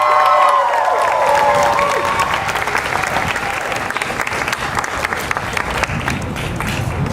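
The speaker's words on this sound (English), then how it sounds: "Yeah, please clap it up for yourself." An audience at a human rights celebration in Hartford claps and cheers, with a few whoops early on over dense, sustained applause that carries on steadily to the end.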